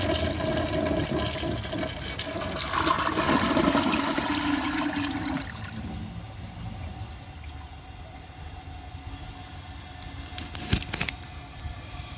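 A 1990s low-tank Kilgore toilet flushes with a loud, rushing water surge lasting about six seconds, then settles into a quieter trickle and refill hiss, with a few faint clicks near the end.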